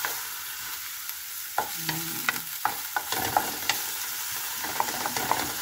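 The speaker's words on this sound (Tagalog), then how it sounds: "So, haluin ko na po." Pechay with galunggong fish and shrimp sizzles in a pan while a spatula stirs, sharp scraping knocks over a steady frying hiss, close and without speech.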